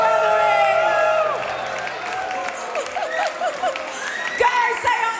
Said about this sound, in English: the crowd are clapping you